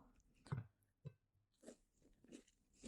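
Quiet, close-up crunches from biting and chewing a crisp cookie, several separate bites and chews with pauses between.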